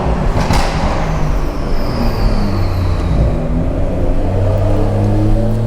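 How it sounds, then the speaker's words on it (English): A 600 hp BMW 340i with its exhaust X-pipe deleted revs hard while sliding through corners, a loud continuous rumbling engine roar with rising and falling pitch. "I'm probably gonna title this video something like sliding every corner in my 340i"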